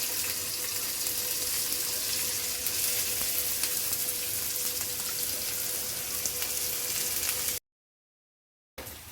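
Onion and garlic sizzle steadily in hot oil in a pan for a bitter gourd dish, a dense continuous frying hiss with faint stirring, cutting out briefly near the end.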